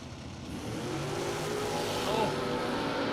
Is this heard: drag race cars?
yes